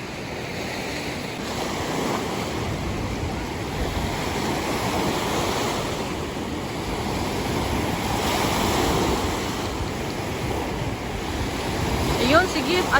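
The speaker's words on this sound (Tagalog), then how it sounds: "Nalakas ng alon." Strong surf at Sauble Beach washes in as a continuous broad roar of breaking waves, with wind buffeting the microphone and faint voices behind it.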